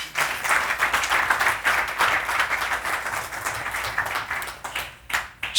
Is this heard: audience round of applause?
yes